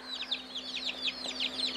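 Four-day-old Orpington chicks cheep continuously in rapid, high-pitched peeps close by, several birds overlapping over a steady low hum, likely from a brooder heater or fan.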